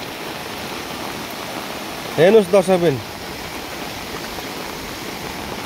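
A river swollen by flooding after days of heavy rain roars as a steady, dense wash of rushing water. A voice speaks briefly over the constant torrent.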